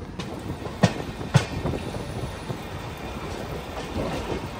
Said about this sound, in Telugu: మన ట్రైన్ గోదావరి బ్రిడ్జ్ పై నుంచి వెళ్తుంది. ఏది రోడ్ కమ్ రైల్వే బ్రిడ్జ్ పై నుంచి వెళ్తుంది.